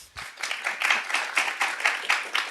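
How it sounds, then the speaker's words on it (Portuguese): Clapping at a game-development talk on low poly modelling starts abruptly after a short thump. It comes as a ragged series of loud pulses from a modest audience over a couple of seconds. "Uma salva de palmas para ele, por favor"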